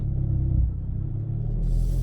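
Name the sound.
Hyundai Veloster N exhaust in sport mode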